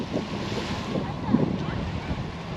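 Surf washes ashore on a Dubai beach facing the Burj Al Arab, with swimmers in the water; a steady, close roar of waves mixed with wind buffeting the microphone runs through the whole clip.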